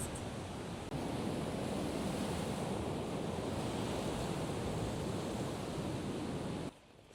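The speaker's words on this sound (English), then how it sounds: "Very windy today." A steady roar of strong wind mixed with crashing surf, broad and continuous, buffeting the microphone before dropping off abruptly near the end.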